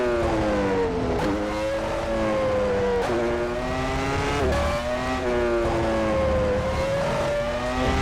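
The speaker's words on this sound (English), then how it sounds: "at least it sounds great when you put the power down. V10 engine." A high-pitched V10 racing engine in the rFactor 2 video game screams continuously, rising through the revs and dropping sharply at each gear change, loud and close.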